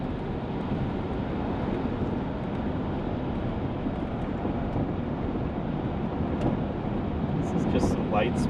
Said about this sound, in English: Just some light-spirited driving at 50 miles an hour in a fairly bumpy little two-lane.